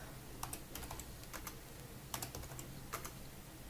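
A new password goes into a computer keyboard on a Linux machine as a quick burst of light, crisp key clicks in small irregular clusters, close and quiet against a faint room hum.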